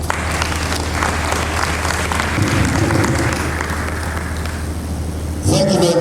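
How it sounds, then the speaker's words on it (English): An audience at a conference panel applauds steadily, a dense wash of clapping that holds for several seconds, then ends as a voice begins speaking. "Please could we give them a round of applause, a loud one."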